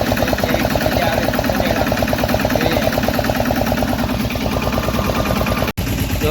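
A tractor engine runs in a peanut field with a loud, steady rhythmic chug and heavy low vibration, close by and unbroken apart from one brief dropout near the end.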